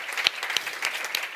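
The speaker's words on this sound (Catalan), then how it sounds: "El puc aplaudir?" A festival audience in Girona applauds a guest speaker, a brief burst of crowd clapping with a few sharper claps standing out, close and unaccompanied by talk.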